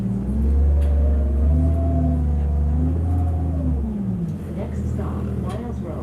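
A TTC 2006 Orion VII transit bus engine rumbles with a deep, loud drone and shifting tones as it pulls, easing off partway through.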